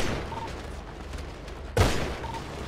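Gunfire in the video game GTA V, a single sharp, loud shot cracking out partway through against a low, noisy background.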